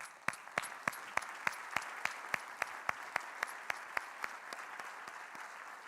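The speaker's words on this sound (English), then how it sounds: "They deserve an applause." Audience at a university address claps, with one distinct nearby clapper striking in a steady, even rhythm over a faint, softer spread of clapping from the room.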